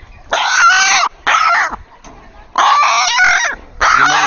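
A chicken clucks and squawks loudly at close range in four harsh bursts separated by short silences.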